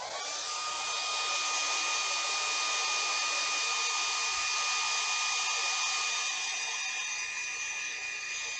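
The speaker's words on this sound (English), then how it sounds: "I'm gonna hit this with the blow dryer" Hand-held blow dryer running steadily on a freshly painted wood-turned piece, a loud continuous whooshing whine with a faint tonal hum, close and uninterrupted, no talking.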